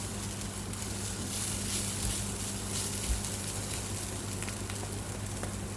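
Mince frying in a pan gives an even, moderate sizzle throughout, with a low hum in the background and a few faint clinks from stirring.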